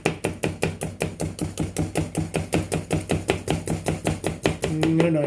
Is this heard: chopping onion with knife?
yes